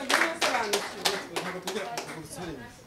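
A church congregation claps in a rhythmic burst of applause, a series of sharp, crowd-wide hand claps beating steadily with voices mixed in.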